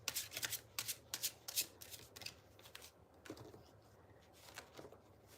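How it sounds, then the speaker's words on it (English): Tarot card decks are shuffled close up in a quiet room, with rapid riffling bursts in quick succession that slow and thin out toward the end. "I'm just shuffling away, preparing decks"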